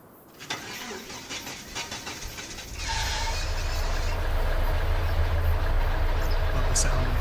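A truck engine in Farming Simulator 25 cranks with rough, uneven bursts, then catches into a loud, steady low rumble that keeps running to the end.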